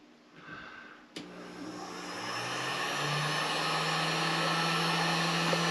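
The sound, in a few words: heat gun running on its low setting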